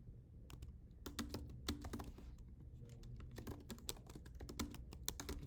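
Fast, irregular clicking of computer keyboard keys while code is typed, close and fairly quiet, in bursts with brief pauses and no talking.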